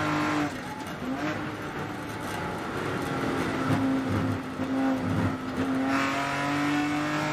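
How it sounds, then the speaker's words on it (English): A race car holds full throttle through the carousel at Sonoma Raceway, its engine a sustained, steady drone with slight pitch shifts as it sweeps through the long corner, heard from onboard and fairly loud. "Listen to how much full throttle Colin Garrett does through the carousel here."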